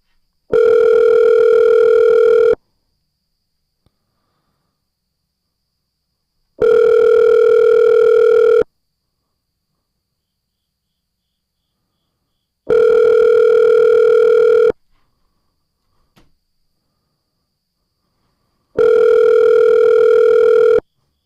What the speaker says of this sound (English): try and call that scammer's number